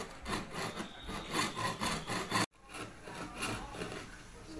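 A hand saw cuts through bamboo in steady, rapid back-and-forth strokes, a rasping rhythm heard up close and alone, with one brief pause midway before the sawing continues.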